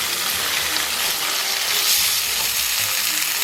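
Blanched pork hits hot oil with chili paste, broad bean paste and soybean paste and is stir-fried, giving a loud, steady sizzle with no talking.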